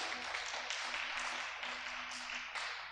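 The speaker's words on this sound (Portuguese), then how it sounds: "Você pode aplaudir o Senhor por isso?" A church congregation applauds in a faint, continuous wash of clapping that swells slightly in places and stays distant and soft.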